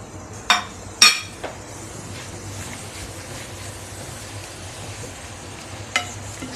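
Fenugreek leaves and fried potatoes sautéing in a pan, a low steady sizzle under a few sharp clinks of a spoon against the pan early on and again near the end.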